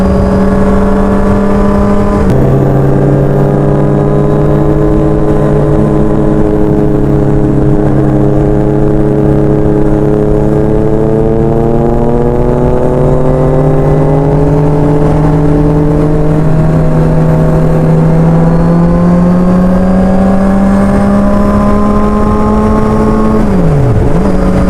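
A motorcycle rides along a road in Clark, Pampanga, its engine droning loudly and close by with a steady tone that rises gradually as it accelerates, shifting pitch at gear changes, and no voices heard.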